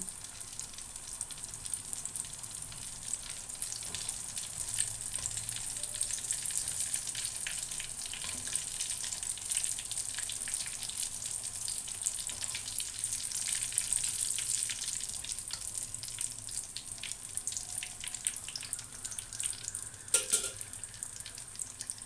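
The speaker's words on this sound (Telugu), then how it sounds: "ఇలా రెండు వైపులా కాల్చుకోవాలి" Mirchi bajji, batter-coated chili fritters, sizzle steadily in hot oil, giving a continuous bright crackle and bubble with occasional louder pops throughout, no voices present.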